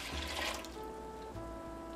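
Water pours into a pot of washed red lentils for a soup, a soft brief rush of liquid up close, with a faint tonal hum behind it and no talk.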